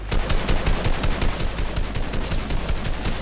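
Sustained automatic gunfire in a shooter video game, a loud, dense rattle of rapid shots with no break, close and continuous throughout.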